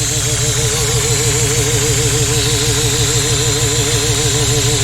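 Supercharged Chevette engine idling with a carburetor leaking air, a steady close-up mechanical drone with a rhythmic warbling pulse and a constant hiss running alone throughout.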